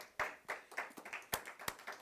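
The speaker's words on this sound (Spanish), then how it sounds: "Denle un aplauso al Señor." A church congregation claps at a worship service, giving sparse, separate hand claps at uneven intervals. The clapping is fairly faint and there is no talking.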